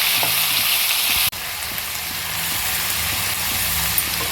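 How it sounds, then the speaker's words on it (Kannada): Onions and tomatoes sizzle steadily in a hot tempering for vegetable kurma, a dense close hiss with a brief click partway through and no talking. "ಒಗ್ಗರಣೆಲೆಲ್ಲ ಚೆನ್ನಾಗಿ ಈರುಳ್ಳಿ ಮತ್ತು ಟೊಮೊಟೊ ಎಲ್ಲ ಬಾಡಬೇಕು"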